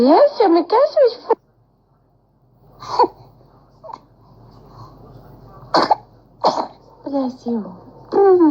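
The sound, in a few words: baby sneezing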